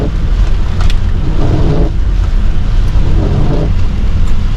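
Steady heavy rain hisses continuously, a dense loud wash with a low rumble underneath and no pauses.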